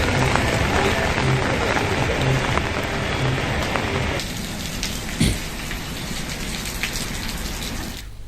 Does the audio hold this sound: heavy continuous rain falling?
yes